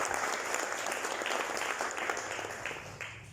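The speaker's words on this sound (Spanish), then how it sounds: "Déselo al Señor ese aplauso," A church congregation claps steadily and warmly, a sustained round of applause at moderate volume that tapers slightly toward the end.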